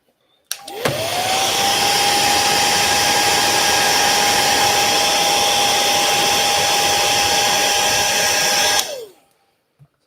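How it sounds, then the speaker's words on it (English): A hair dryer switches on with a rising whine and then blows at a loud, steady, close roar for about eight seconds before switching off and winding down. No voices are heard. "The hairdryer."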